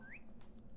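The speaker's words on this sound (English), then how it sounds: "There's a cardinal in there." Cardinal in the video game Virginia, heard inside a room with a generator: a single faint, rising whistled chirp, short and clear over a low steady hum.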